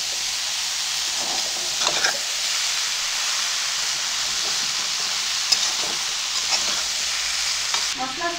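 Vegetables including eggplant, potato and pui mituli are stirred with spices and salt in a hot pan, a constant steamy sizzle with scattered scraping and clinking of the spatula.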